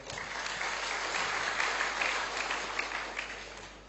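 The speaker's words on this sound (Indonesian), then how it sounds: "Tepuk tangan buat beliau semua." At a business event in Indonesia, the audience applauds a row of honoured guests, a moderate, continuous spatter of clapping that stays level for a few seconds and fades slightly at the close, over a steady low hum.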